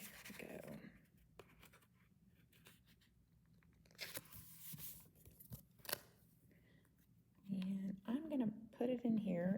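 Cutting paper by hand with a cutting die, a handful of quiet, scattered snips and crisp tearing scrapes separated by pauses, followed by someone talking at the end.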